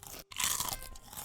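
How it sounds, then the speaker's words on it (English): Crunchy maggot mush chewed up close, loud wet crunching in quick bites with a brief pause near the start, then steady mastication. "This maggot mush really is crunchy."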